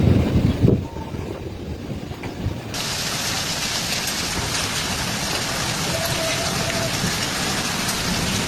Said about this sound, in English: heavy rain was accompanied by strong winds, sweeping through residential areas